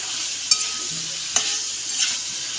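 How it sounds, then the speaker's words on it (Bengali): Meat being stir-fried in a pan, with a soft steady sizzle and a few sharp scrapes or clanks of a spoon against the metal, close by and without talk. "মাংস কষাচ্ছি"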